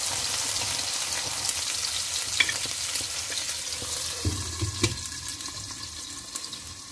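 Hot oil sizzles in a pan as daikon radish, carrot and noodles are stir-fried, giving a steady close crackle with a few clinks and taps.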